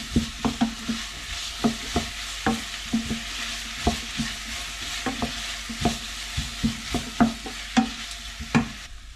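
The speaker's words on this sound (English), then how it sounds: "So I've just added the bacon into my carrot and my onion, and I'm going to cook it off for a few minutes" Bacon frying with onion and carrots in a pot, a steady sizzle punctuated by repeated rhythmic scrapes and knocks of a spoon stirring, close and clear with no talking.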